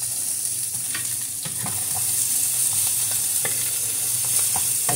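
Chopped garlic, onion and ginger sizzle in a pan for pork caldereta, a steady close frying hiss broken by scattered scraping and clicking stirs of a spatula, with no talk.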